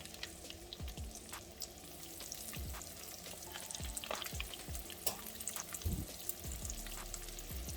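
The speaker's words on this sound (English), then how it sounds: "Now I'm gonna take my trout fillets, skin down, and place them in my skillet." Steelhead trout fillets laid skin down in an oiled skillet sizzle steadily and close, with a few sharper spits and scrapes of a spatula through the frying; no one speaks.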